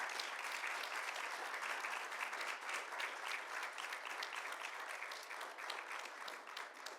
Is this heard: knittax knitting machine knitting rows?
no